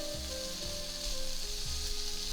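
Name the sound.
onion and garlic sizzling while frying in a pot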